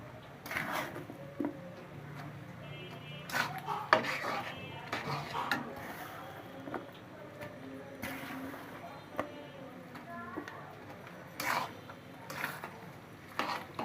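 Pieces of elephant apple (chalta) are dropped one by one into a pan of date palm jaggery. Soft, irregular plops and scrapes sound close by against faint kitchen background noise, with no talking.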